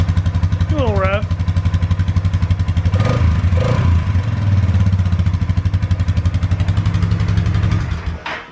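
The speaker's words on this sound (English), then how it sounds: "Doesn't sound horrible for a stock exhaust." A 2019 Polaris Sportsman 570 ATV engine with stock exhaust idles roughly and steadily at close range, its exhaust note rumbling with a slight rev midway, while people talk over it.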